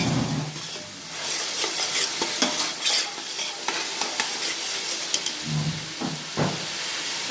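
Biryani masala mixture being stirred in a pot, a continuous close sizzle and hiss with scattered scraping taps of the spoon, no voices.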